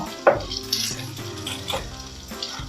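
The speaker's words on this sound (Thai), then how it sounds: "ผัดให้สุกผัดให้หอมนะคะ แล้วก็เอาไข่ลงไปเจียวเลยค่ะ" An egg fries in a hot pan for pad thai, a close, steady sizzle broken by a sharp clatter of a utensil against the pan early on and a few lighter scrapes.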